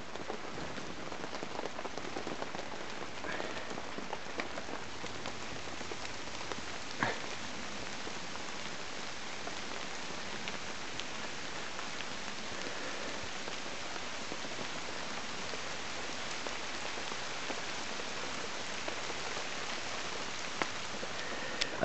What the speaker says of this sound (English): listening to rain, seeing if there's any leaks